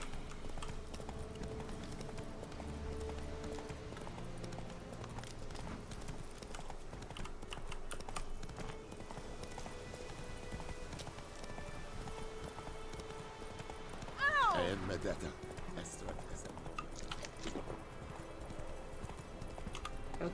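Roach the horse gallops in The Witcher 3: Wild Hunt, with steady rhythmic hoofbeats clip-clopping throughout and a brief whinny midway, set against faint game ambience.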